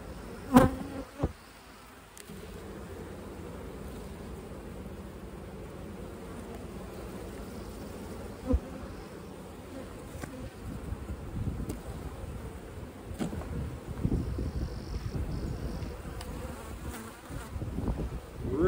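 Honeybees hum continuously around an open hive colony during an inspection. The buzzing is soft and steady, with scattered close passes, light rustling and a few handling bumps.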